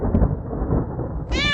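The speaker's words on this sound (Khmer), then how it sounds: "ស្រាប់តែមានសំឡេងឆ្មាយំមកពីណាក៏មិនដឹង" A cat meows in a Khmer cartoon as a dark sky threatens rain: a short, high, wavering meow near the end, after a low rumbling background.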